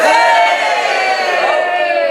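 A live audience at a comedy show in Camden cheers loudly, a dense sustained roar of whoops and yells from the crowd, close and continuous for a couple of seconds.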